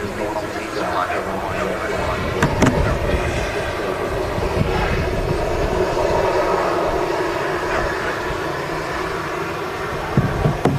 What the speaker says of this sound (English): apparently just over the top of us is a Delta 767-300